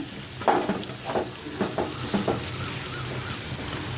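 Food frying in a pan while being stirred, a steady sizzle broken by several scraping stir strokes in the first half, close and alone without talk.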